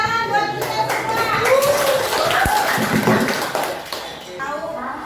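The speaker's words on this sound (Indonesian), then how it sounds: "tepuk tangan buat kita semua." A class of students claps hands in a short round of applause, close and lively, with a teacher's and children's voices talking over it.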